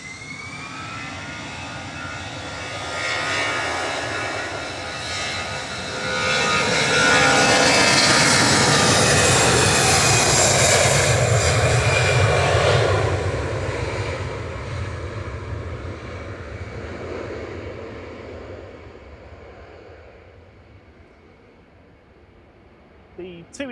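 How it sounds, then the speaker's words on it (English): Embraer E190 jet touching down at Manchester Airport while an easyJet jet departs on the parallel runway, a loud sustained roar building and swelling through the middle, then slowly fading into distant engine rumble. "Air France 1668 from Paris Charles de Gaulle, just touching down, E190, FHBLE, and departing in parallel, EasyJet to Milan"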